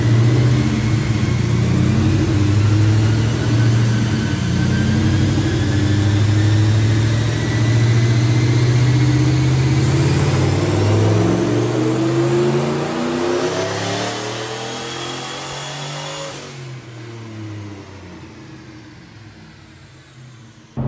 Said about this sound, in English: I'll put the dyno video in now.